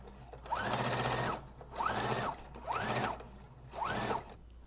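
A sewing machine stitches a ruffle on a garment in four steady bursts of rapid mechanical whirring, each lasting about a second with brief pauses between, close and alone.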